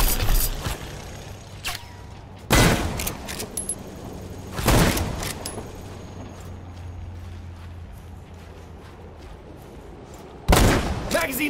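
Video game World War Heroes: loud bursts of gunfire crack out near the start, around the middle and again near the end, with mechanical clatter and low rumble between the volleys.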